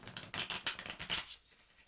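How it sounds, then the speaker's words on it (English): Tarot cards shuffled by hand up close, giving a quick series of crisp papery riffling bursts for a little over a second before trailing off into near silence. "Sometimes I can shuffle these perfectly fine"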